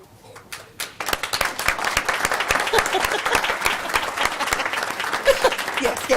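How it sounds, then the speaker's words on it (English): An audience at a swearing-in ceremony and board meeting bursts into dense, steady applause after a few scattered early claps, holding a full roar of clapping to the end. "Round of applause."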